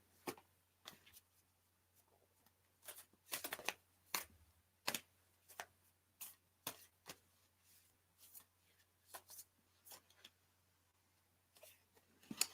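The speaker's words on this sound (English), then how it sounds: "So we'll give it a good shuffle, get the energy flowing in it." Quiet, crisp riffling and tapping bursts of a deck of cards being shuffled during a card reading, repeated in short irregular spurts against a faint low hum.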